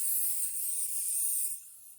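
A spray coat hisses onto a wooden sleigh bed panel in a steady, close, high-pitched stream that drops off near the end.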